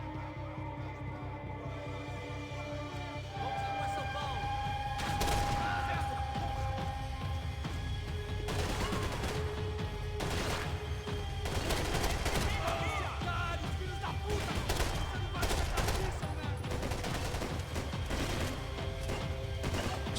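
Max Payne 3 video game gunfire: dense, continuous shooting with repeated sharp shots and bursts amid clatter and a constant low rumble, sustained throughout.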